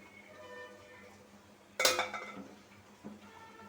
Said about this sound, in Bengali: মাছ দিয়ে আস্তে আস্তে একটু নাড়াচাড়া করে বেগুনের সাথে মিশিয়ে নিতেছি